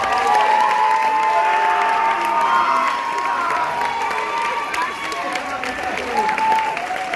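A theater audience at a hypnotist's stage show claps and cheers steadily for the volunteers on stage, a dense, sustained wash of applause with a voice carrying over it throughout.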